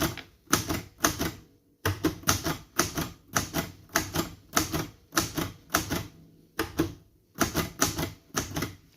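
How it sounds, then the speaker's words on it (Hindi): Keys strike an Imperial Gemini typewriter in quick bursts of sharp clacks, short runs separated by brief pauses, close and crisp with no talking. "मैं पहले छोटे स्पेल्स से ही टाइप करता हूँ जी"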